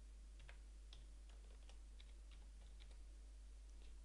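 Password being typed on a computer keyboard, a string of soft, light key clicks at an uneven pace over a low steady hum, quiet and close.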